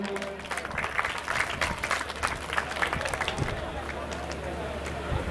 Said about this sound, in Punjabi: ਇੱਕ ਵਾਰ ਤਾੜੀ ਮੱਤ ਦਿਓ ਬਾਈ